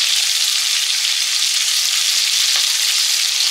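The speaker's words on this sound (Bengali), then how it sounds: "জিরেটা একটু ভাজা হোক।" Black cumin seeds frying in hot mustard oil give a loud, steady, close sizzle that holds without a break, and no one speaks.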